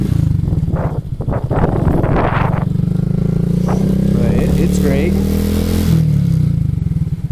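A 2026 Honda Grom motorcycle engine with 5,000 miles drones steadily while riding, close and loud with wind buffeting, as a person talks over it.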